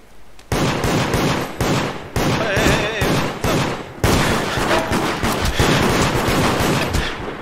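Rapid bursts of gunfire in the video game Deceit, loud and close, with repeated volleys and short gaps between them, continuing almost without pause.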